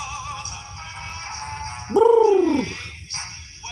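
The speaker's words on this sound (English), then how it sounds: "Pick up on the pigeon." A single pigeon coos once, a rounded falling call standing out over steady background music, with low rumble and faint ambient noise around it.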